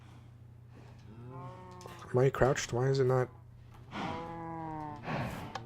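Cattle mooing in Minecraft Bedrock Edition, a few drawn-out moos rising between stretches of a player talking over them.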